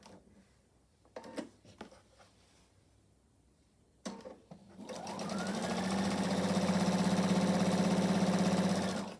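A sewing machine stitching under foot-pedal control, preceded by a few sharp clicks and handling knocks, then spinning up into a loud, steady, close whirring run.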